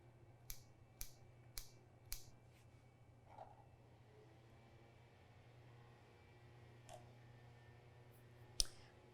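Four quick, crisp snips of kitchen scissors in a steady rhythm, then a few fainter clicks and a final sharp snip, close and quiet with no talking.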